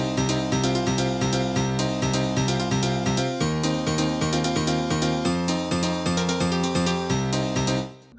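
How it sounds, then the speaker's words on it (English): Classic Korg M1 rave piano plays a repeated stab chord riff for an old skool hardcore track, loud, bright and steady, with chord changes and no talking, fading at the end. "The piano, of course, comes from the classic M1"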